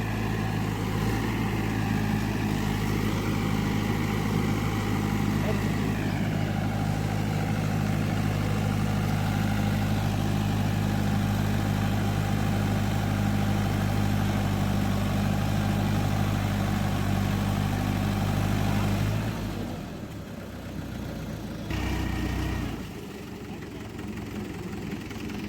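A tractor engine runs while puddling a muddy paddy field, a steady low idling rumble that holds for most of the stretch, then drops and falters near the end, with voices talking over it.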